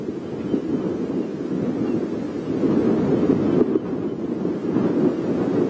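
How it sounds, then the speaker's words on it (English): Strong, gusty wind buffets the microphone in a continuous low roar during a safari drive, surging slightly louder midway, with no voices. "It is incredibly windy."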